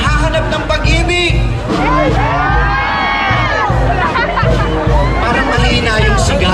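A large crowd shouts and cheers at a Filipino event, a steady wall of massed voices with rising and falling calls, loud and continuous throughout.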